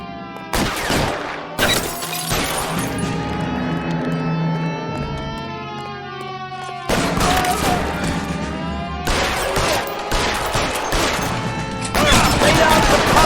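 Rapid bursts of gunfire crack through a shootout in L.A. Noire, loud and near, with dense overlapping shots broken by brief pauses.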